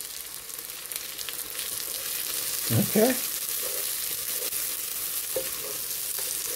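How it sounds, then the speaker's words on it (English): Boiled eggs frying with onion in a pot, a soft steady sizzle with a brief louder stir of movement near the middle and a single spoken word over it. "You're frying boiled eggs."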